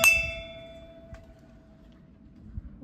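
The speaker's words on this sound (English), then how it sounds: "Got a little bell." A little bell on a boat is struck once and rings out with a clear, bright tone that slowly fades, with a faint tap partway through and no talking.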